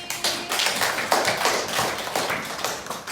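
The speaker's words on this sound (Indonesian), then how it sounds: "Tepuk tangan untuk Mbak Tania Putri" An audience at a school event on resilience applauds, a moderately loud, uneven patter of hand claps with some stronger bursts, continuing steadily with no speech over it.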